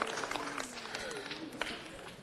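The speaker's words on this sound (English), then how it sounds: "Let's give Josie Avila a huge round of applause." Applause from the audience at a city council meeting, a moderate patter of many hands clapping with a low voice faintly audible beneath.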